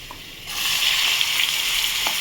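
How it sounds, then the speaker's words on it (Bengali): Onion hits hot oil alongside already-fried potatoes, and a loud, dense sizzle surges up after a quieter start, then holds steady and close. "পেঁয়াজটা আর আলুটা একসাথে ভেজে নেব।"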